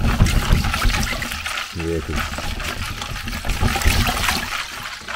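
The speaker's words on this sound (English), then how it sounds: "I need to stir this ice water up too" Ice water in a container is stirred and shaken, giving a continuous swishing, trickling slosh at moderate volume under a voice.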